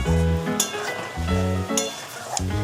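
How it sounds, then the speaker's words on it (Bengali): Spice paste for chickpea ghugni sautéing in a pan makes a close sizzle, with stirring strokes and light clinks of utensil on metal over a steady tonal hum. "এটা এখন একটু ভালো করে কষিয়ে নিই"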